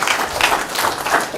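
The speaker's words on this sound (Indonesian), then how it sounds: "Berikan sorak-sorai buat Tuhan." A church congregation claps and cheers for God in a short, lively burst of applause, with a rapid, pulsing rhythm of many hands at moderate loudness.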